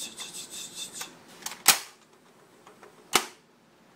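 A modified Nerf LongShot blaster with a breech conversion fires two sharp, fairly quiet pops about a second and a half apart over faint background hiss.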